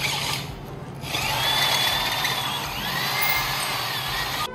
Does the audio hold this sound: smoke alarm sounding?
no